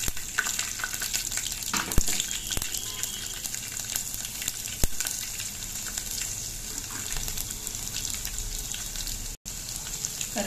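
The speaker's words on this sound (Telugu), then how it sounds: "అది కొద్దిగా వేగాక మనం వెల్లుల్లిపాయలు వేద్దాం." Garlic sizzles in hot oil with urad dal, mustard seeds and cumin while tempering for allam pachadi, a steady close crackling fry with a few sharp pops and stirring clinks.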